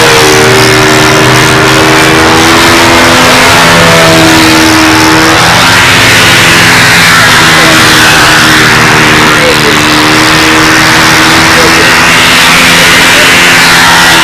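A model airplane's 156 engine pulls the plane through the air at a two-day flying contest in North Hampton. It makes a steady, buzzing drone that rises and falls in pitch as the plane moves, with a few faint voices underneath.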